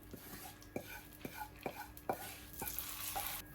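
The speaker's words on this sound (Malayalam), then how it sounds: "നാളികേരത്തിൻ്റെ പച്ചച്ചവ ഒന്ന് മാറുന്നത് വരെ ഒന്ന് ഇളക്കി കൊടുക്കാം" Grated coconut is stirred in a pan with a utensil, giving soft repeated scrapes and light taps over a faint sizzle, close but quiet with no talking.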